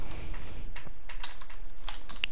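Computer keyboard keys clack in an irregular run of crisp taps during a Minecraft session, close and fairly quiet, with no talking.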